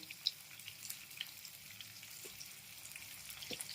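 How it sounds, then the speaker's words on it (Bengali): Chopped onion and pumpkin fry in oil in a pan, a quiet, steady sizzle with faint crackles and occasional small pops, no voices heard. "কুমড়োটা এপিট ওপিট করেই আমরা এই কুচানো পেঁয়াজটা দিয়ে দেবো।"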